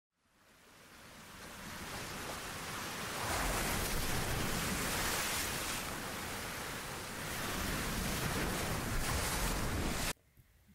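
Ocean waves wash onto a beach in a continuous loud surf roar that swells and eases over several seconds, mixed with some wind, then cuts off abruptly at the end.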